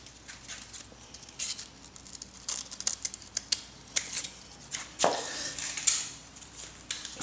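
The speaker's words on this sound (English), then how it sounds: "I'm gonna have a scissors so I can cut different parts as I'm going." Scissors make small crisp snips through sandpaper grip paper while shaping a patch for repairing wheel curb rash, irregular quiet clicks and cuts close by.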